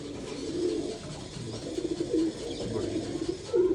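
Pigeons coo continuously in low, rolling, throaty calls, close and fairly loud, with overlapping birds and no talk.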